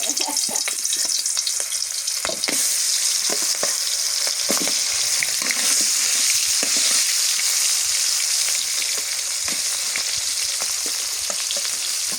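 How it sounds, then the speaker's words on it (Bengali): Winter vegetables frying in oil make a loud, steady hiss and crackle close up, with occasional soft clinks of stirring and no talking. "অর্ধেক করে ভেজে নিই।"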